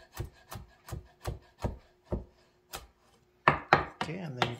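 A kitchen knife finely chops green chili on a cutting board for samosa stuffing: a steady run of about eight crisp, close taps, followed by a few heavier, louder strokes.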